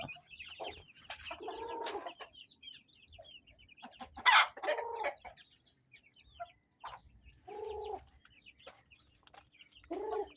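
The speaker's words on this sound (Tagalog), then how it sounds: "Mga ganyan ang klase ng manok, mga ganyan palang kaliit, 15 days pa lang." Young broiler chickens, about 15 days old, cluck in repeated short bursts close by, with a few sharper calls and quiet gaps between them.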